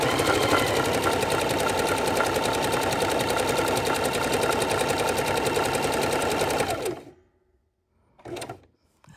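A sewing machine runs a steady double stitch on a quilt, fast even rapid clatter for about seven seconds close by, then stops, followed by a brief mechanical sound.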